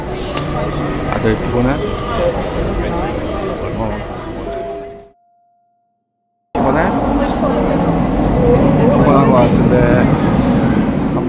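A train runs on rails near Lisbon, a loud, rumbling interior ride with steady rolling noise and faint squeals, broken by a brief silent gap before resuming at full strength.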